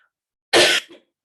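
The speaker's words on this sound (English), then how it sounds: "Sorry, I've got a slight cough." A person gives a single short, sharp cough that sounds like throat clearing, close up and alone, during a quiet indoor talk.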